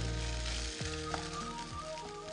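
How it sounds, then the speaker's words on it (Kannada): Long-sliced onions roast in a hot pan, a soft continuous sizzle beneath steady background hum and tones, with no talking. "ಇದು ಚೆನ್ನಾಗಿ ರೋಸ್ಟ್ ಆಗ್ಬೇಕು."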